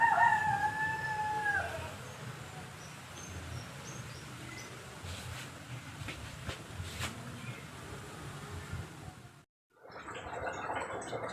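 Chickens at a chicken coop, with a rooster crowing briefly at the start, followed by faint clucking and ambient farmyard noise throughout, a short gap, then more background sound.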